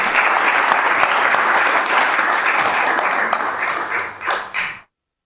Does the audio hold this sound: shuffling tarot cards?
no